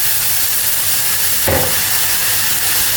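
Warm water hits frying noodles in a hot pan, a loud steady sizzle and hiss with a sudden burst of steam and spatter partway through.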